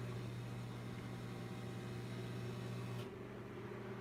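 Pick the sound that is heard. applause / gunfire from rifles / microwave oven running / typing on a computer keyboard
microwave oven running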